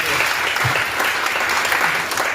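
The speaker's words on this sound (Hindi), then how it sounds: "एक बार अपने लिए तालियां मारना" An audience of schoolgirls at a session breaks into loud, dense, continuous applause. The clapping fills the whole stretch and stays steady, with faint voices mixed in beneath it.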